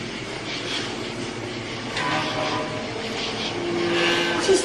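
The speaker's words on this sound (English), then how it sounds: "it might be a plane outside" A low, distant aircraft drone rumbling steadily, slowly growing a little louder toward the end.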